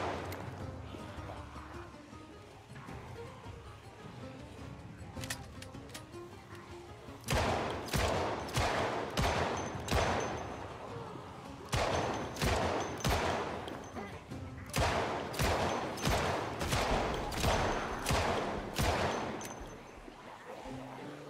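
Pistol shots ring out in the zombie survival game Project Zomboid, fired in quick bursts of sharp, loud cracks with short pauses between volleys, preceded by a quieter stretch with a voice.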